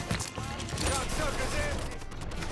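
A firefight in the video game Mafia III brings dense, rapid bursts of gunfire and crackling shots, close and continuous, with voices shouting over the shooting.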